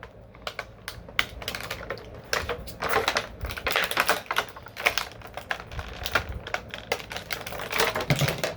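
Scissors snip action figures free of plastic blister packaging, a close, irregular run of sharp clicks and crackling cuts in uneven bursts, with no talking.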